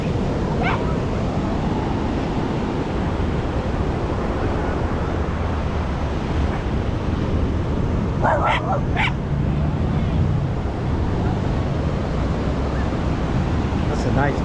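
A dog on a beach yips and barks a few times, short and mid-distance, over a constant roar of ocean surf, with people talking faintly in the background.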